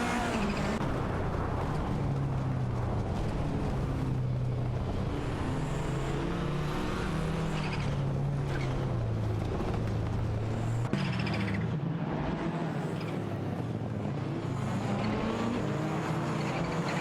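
Porsche 944 Turbo and Porsche 968 Turbo RS race side by side in a video game, their engines droning loudly and steadily with shifting pitch as they battle for position, with no voices.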